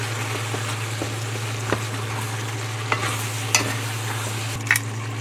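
A pot of beef and vegetable stew simmers with a steady low bubbling hiss while a spoon stirs, giving a few soft scrapes and knocks spread over several seconds, close and quiet, no talk.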